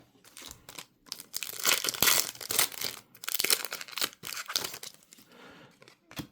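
Foil trading card packs are torn open and crinkled up close, a series of sharp rips and crackling crumples in irregular bursts separated by short quiet pauses.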